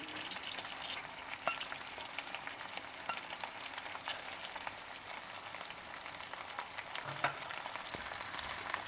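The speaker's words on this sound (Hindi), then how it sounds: "अब हम इसे अच्छी तरह फ्राई कर लेंगे।" Okra fries in ghee for bhindi gosht, producing a soft, even crackling sizzle throughout, with a few faint stirring knocks and no voices.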